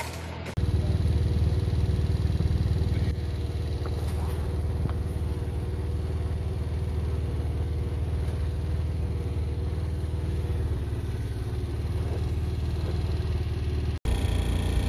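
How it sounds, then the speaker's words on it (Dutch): A moped's small engine drones steadily just behind a bicycle towing a cart on a cold ride home, a constant near, moderate hum with light clatter and road noise. "rijdt achter mij op de brommer"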